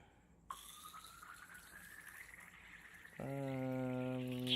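Water drawn into a syringe, a soft liquid hiss that rises steadily in pitch as it fills, followed by a steadier, louder run of water toward the end; no voices.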